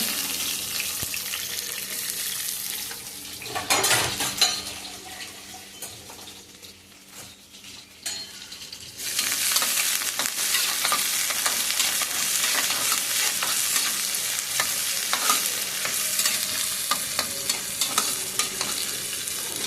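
Onions fry in a pan for an ivy gourd gravy, crackling and sizzling steadily while a spatula scrapes and stirs. A brief quieter lull comes before a louder, denser sizzle that holds to the end, with no speech.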